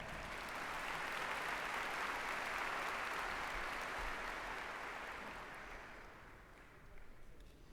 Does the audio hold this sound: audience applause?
yes